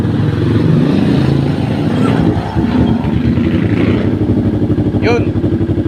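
A Kawasaki ER-6N motorcycle engine under restoration, low on fuel, runs loud and close with a steady throbbing idle and slight clatter throughout.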